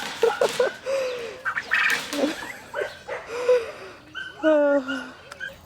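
Young turkeys make a busy run of high, squeaky peeps and yelping chirps, several birds calling over one another near the microphone against a soft outdoor background.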